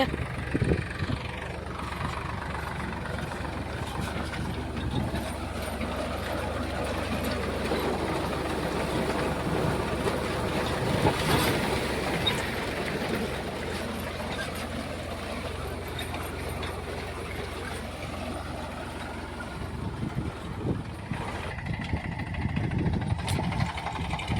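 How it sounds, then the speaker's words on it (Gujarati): A tractor engine runs steadily in a field while the tractor turns during onion planting with a seeding machine, a continuous low rumble with mechanical clatter, close and fairly loud, with a voice talking over it. "અત્યારે ટ્રેક્ટર વળે છે તમે મિત્રો"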